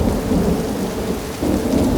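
Thunderstorm from a TV drama series, heavy steady rain with a deep rolling rumble of thunder throughout, loud and full, with no voices.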